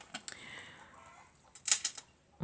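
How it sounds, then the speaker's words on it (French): A hen gives a short burst of clucks near the end, a few close, sharp calls, after quieter background noises. "ma poule se met à chanter"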